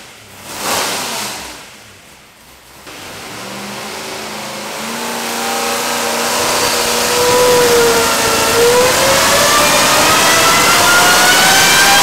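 A dry-sump, Whipple-supercharged LS engine making 1062 hp on pump gas roars through a dyno pull, climbing steadily from a brief blip into a sustained, loud high-revving wail with rising harmonics.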